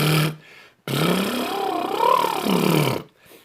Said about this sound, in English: So if you're doing the lip roll and it sounds like this